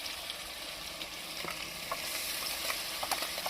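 Home-ground masala of coconut, ginger and garlic roasting in a pan for kaleji, a dense continuous sizzle with soft scraping stir strokes growing slightly louder toward the end.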